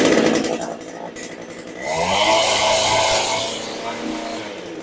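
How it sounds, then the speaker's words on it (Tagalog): A small earth auger engine with a complete drill bit runs during a test, a loud buzzing two-stroke drone that surges and revs up steadily, close to the listener. "Earth Auger na complete drill bit"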